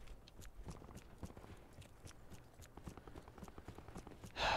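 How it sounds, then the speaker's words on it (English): Enemy footsteps in Call of Duty: Black Ops 4, a steady run of quick, fairly close steps over a busy game background, with no one talking. "I hear his footsteps."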